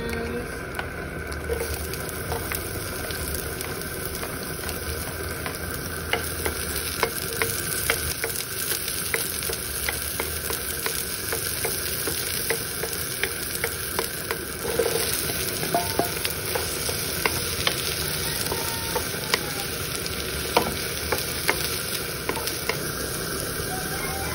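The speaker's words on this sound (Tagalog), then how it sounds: "saute the garlic. And then the onions." Garlic and onions sauteing with bacon in a pan, a steady close sizzle and frying crackle with occasional stirring scrapes running throughout, no voices.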